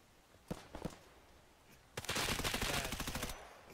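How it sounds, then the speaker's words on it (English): Distant gunfire in the tactical shooter Escape From Tarkov, a couple of isolated sharp shots followed by a long rapid automatic burst of cracking rounds, moderately far off with no speech over it. "There's more shots over there."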